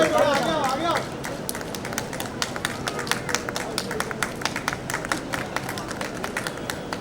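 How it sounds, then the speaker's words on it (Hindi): Enthusiastic audience applause at a Mumbai committee plant festival celebration, a loud burst that settles into steady, sustained clapping from a crowd with some voices mixed in. "एक बार जोरदार तालियां।"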